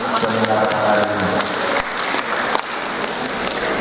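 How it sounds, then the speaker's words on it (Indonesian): Audience at an anti-bullying education seminar applauding the organizing committee, steady indoor clapping from a sizable room, loud and continuous with a voice faintly underneath. "tepuk tangan untuk panitia seminar hari ini."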